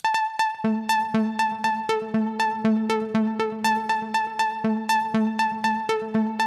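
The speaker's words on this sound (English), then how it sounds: "all we're getting now are A's, okay, which sound like this." A steady sequence of identical synth notes, all A's from an iPad MIDI sequencer, repeats on the same pitch at an even pace, each a clear plucky tone, with no voice.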